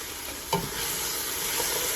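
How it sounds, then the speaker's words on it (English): A spoon stirs vegetable soup with turmeric, spices and bay leaves in a pot, giving one sharp scrape against the pot, then a steady, close simmering sizzle. "And give it a stir, give everything a stir."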